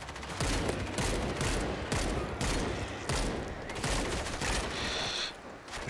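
A weapon in World War Z fires in rapid, dense bursts, loud and close, volleys repeating almost continuously with brief pauses between them.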